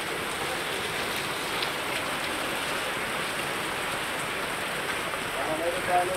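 Heavy rain pours down steadily in Kollapur on a Sunday evening, a dense, unbroken hiss of drops striking the ground and surfaces nearby, with no pause throughout.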